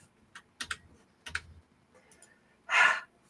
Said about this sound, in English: Sorry, new keyboard, lots of new options.